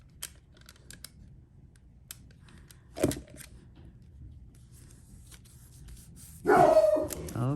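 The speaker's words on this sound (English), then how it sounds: "the dogs heard something outside" Dogs barking indoors: a short sharp bark near the middle, then a louder burst of barking toward the end, over a quiet room with faint taps and rustles.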